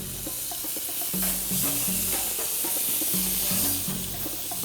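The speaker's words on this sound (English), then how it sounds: "That means it's time to turn the chops over" Veal chops sizzle steadily on a grill with V-shaped grates, a continuous frying hiss with faint scraping and occasional low knocks, close and fairly loud, no speech.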